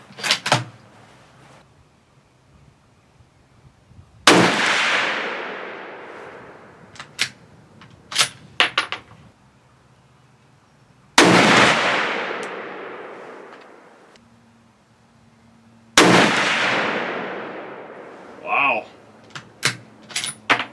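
Three loud rifle shots from a Savage 110 Desert Tactical during an outdoor accuracy test, each a sharp crack with a long decaying echo, spaced several seconds apart, with bolt and brass clicks between them.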